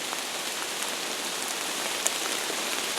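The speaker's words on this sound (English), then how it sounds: "Middle of a hailstorm," Hail pours down outdoors during a September hailstorm, a dense, even hiss of countless tiny impacts that runs steadily and close throughout, with no voices.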